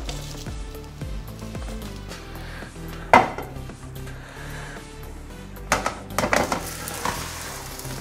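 An egg omelette sizzles in sunflower oil in a pan, a steady low fizz interrupted by sharp knocks and clatters of cookware as it is flipped.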